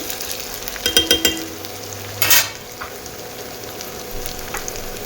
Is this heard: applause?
no